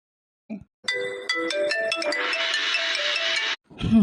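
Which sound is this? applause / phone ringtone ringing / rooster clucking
phone ringtone ringing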